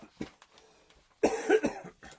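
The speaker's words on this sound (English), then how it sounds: "Oh, my little cough." A single person gives a short cough, brief and fairly close, preceded by soft quiet sounds.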